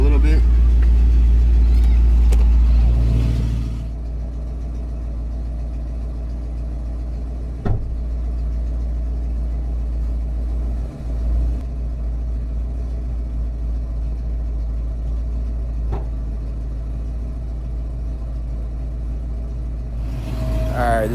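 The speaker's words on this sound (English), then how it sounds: "this is our second test drive after the tuning of the carb" A car engine runs steadily on a test drive after carburetor tuning, a loud low drone throughout with a brief louder burst at the start and a few light knocks along the way.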